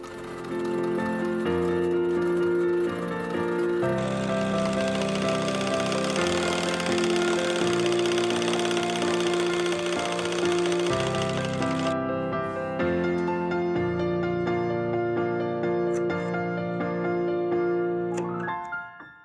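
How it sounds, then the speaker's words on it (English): A sewing machine top stitches the seams of boots made from wool scraps, running in long rapid bursts of mechanical chattering with a brief pause partway through and a stop at the end, close and fairly loud. "Then the seams are top stitched and the seam allowances are tackled down."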